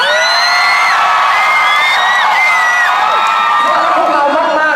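A concert audience at a boy band show screams and cheers loudly, with high shrieks and whoops overlapping in a continuous, excited roar.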